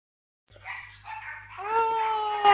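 Yorkshire terriers yip and bark in short, high-pitched bursts that build into a sustained whine-like howl, fairly close and loud, with no talking over them.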